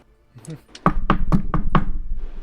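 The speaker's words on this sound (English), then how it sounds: "Who's knocking?" A series of about five firm knocks on a door in a tabletop role-playing session, evenly spaced and loud, following a brief quiet moment.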